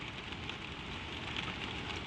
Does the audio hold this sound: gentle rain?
yes